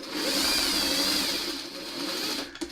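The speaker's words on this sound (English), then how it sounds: "Hand crank up close, boom. Needle goes down, and that comes off." A hand-cranked sewing machine stitches steadily up close for a few seconds, a continuous whirring mechanical hum that fades near the end with a small knock.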